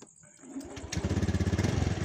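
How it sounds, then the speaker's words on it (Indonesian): A Honda Beat motorcycle engine starts after a short quiet moment and settles into a steady, throbbing idle close by, its pulses even and loud. "Nah, ini kalau motornya hidup ya"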